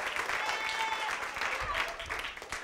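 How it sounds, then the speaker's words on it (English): Audience applause at a live comedy show, a dense, steady wash of clapping that holds at full strength for the whole stretch with no break. "can I get a little applause to start to see how many I can get?"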